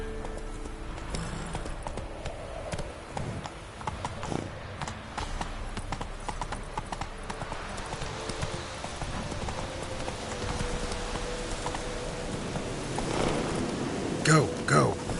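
Roach, a horse in The Witcher 3 video game, gallops with steady rapid clip-clop hoofbeats under ambient game sound, while a player talks over it.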